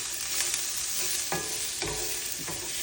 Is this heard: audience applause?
no